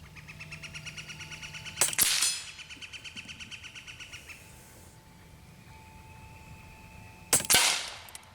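Two sharp shots from an Air Arms SK19 .30 caliber PCP air rifle, each a crisp crack with a short metallic ring, spaced several seconds apart over a steady ticking, humming background.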